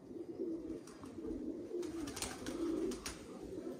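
A racing pigeon with a Danish leg ring, bred in 2013, gives soft, low throaty coos in repeated rolling phrases, close by, with no one talking over it.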